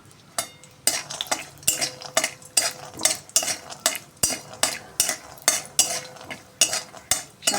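Peanuts roast in a little oil in a wok for a spiced vermicelli upma, a utensil scraping and clanking against the metal in a steady rhythm of repeated strokes over a faint sizzle, close and fairly loud.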